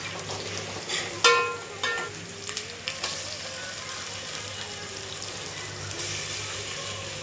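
Curry leaves fry in hot oil in a pan, giving a steady close sizzle with a few sharper crackles and spatters early on, then settling into an even hiss.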